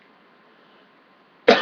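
A single short, loud cough bursts out at the very end after near silence, from a man reviewing a wrestling pay-per-view.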